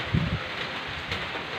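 Steady, broadband hiss of rain falling outdoors, continuous and moderately loud, with a soft low rumble near the start.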